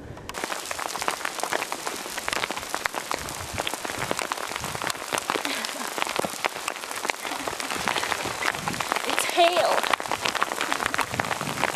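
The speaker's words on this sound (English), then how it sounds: "There's also thunder. There's rain coming by." Steady rain pattering on a surface in the Pyrenees, with thunder about, a dense continuous hiss of drops that holds at an even level throughout.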